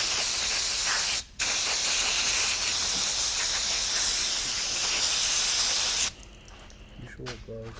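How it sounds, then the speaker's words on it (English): An aerosol can of brake cleaner sprays on a Cummins N14 oil pump part in a long, steady, close hiss with one short pause, then stops, leaving quieter clanking and faint shop noise. "Clean it up with a little brake clean, as long as there's no silicone in it."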